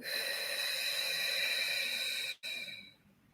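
A forceful exhale through the mouth during guided meditation breathing, a sustained breathy rush of air lasting over two seconds, close and fairly loud, then a brief pause and a softer trailing breath.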